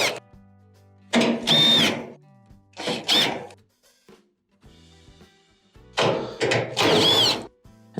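Screws are being removed from the blower housing of a Maytag dryer, heard as several short bursts of a driver whirring with rattles and pauses between them.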